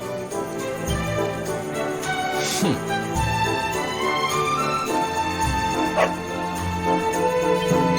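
A dog in Dragon Quest XI barking and yipping in short bursts, with whimper-like cries, over continuous game music, moderately loud and close.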